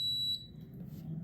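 An Instant Vortex air fryer gives a single high, clear electronic beep as it starts. The tone cuts off after a third of a second, leaving a faint low hum behind it.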